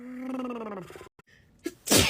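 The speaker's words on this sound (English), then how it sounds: "I did already sneezed like 10 times before I started this." A person sneezes during an allergy fit: a drawn-out voiced inhale building up, a short pause, then a sharp, loud sneeze burst at the end, close and alone.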